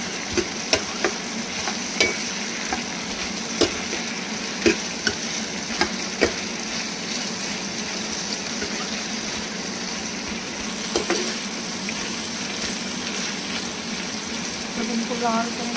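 Onions frying in hot oil in a pan for a desi mutton rogan josh, with a steady broadband sizzle and a few sharp clinks of a spoon against the pan.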